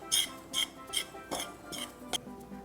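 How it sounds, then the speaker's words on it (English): A spoon stirs baking soda, cinnamon and salt in a mixing bowl, making five or six light clinks and scrapes against the bowl at a steady, unhurried pace, close and fairly quiet. "we want to give it a good stir so that everything is nicely distributed throughout"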